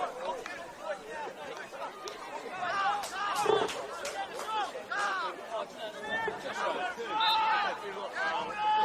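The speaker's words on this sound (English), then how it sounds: "sending this very healthy crowd here at Bloom Park into absolute ecstasy" A healthy football crowd at Bloom Park celebrates a penalty goal in a promotion-relegation second leg. The cheering and excited hubbub swell in the middle, then roar on steadily in the distance.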